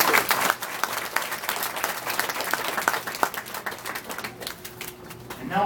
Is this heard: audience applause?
yes